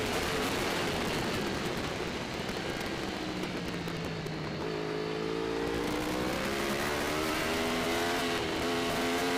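Formula Pacific racing motorcycles held at full throttle around the track, a loud continuous engine roar with rising and sweeping whines as bikes pass, dense and unbroken throughout.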